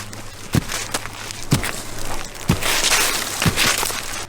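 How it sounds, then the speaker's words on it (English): Slow, steady footsteps sound just outside a front door at night, four evenly spaced heavy thuds about a second apart over a crackling, noisy background. "Footsteps."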